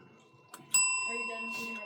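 A cat strikes a small bell, producing one sharp bright ding that rings on and fades slowly, heard close with faint talk nearby before it.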